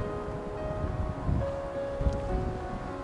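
Wind gusting outdoors near Dover harbour, buffeting the microphone as a steady low rumble with a few stronger gusts.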